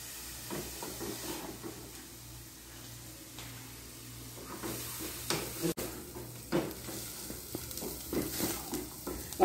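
Chopped onion sautéing in a pan for lasagna filling, a steady sizzle with scraping stirs and occasional utensil knocks, close and moderately loud, no talking.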